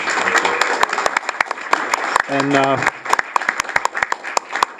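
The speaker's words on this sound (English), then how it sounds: "I'd just like to give them a warm round of applause." Applause for state representative candidates at a Q&A event comes as a scattering of close, uneven claps from a modest audience, with a voice speaking briefly in the middle.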